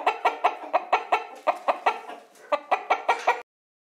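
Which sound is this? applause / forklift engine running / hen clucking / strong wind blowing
hen clucking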